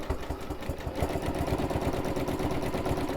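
A sewing machine runs steadily at medium speed while free-motion quilting a pebble design, its rapid, even needle chatter close and continuous with no talking.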